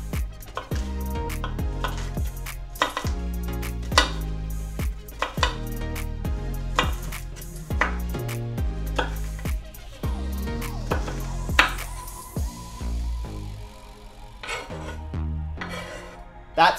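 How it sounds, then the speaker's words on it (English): Knife dicing onions on a chopping board while prepping a Thai-inspired chilli basil chicken, giving a steady run of close, sharp chops that pause briefly and then resume. "So the onions just need to be diced"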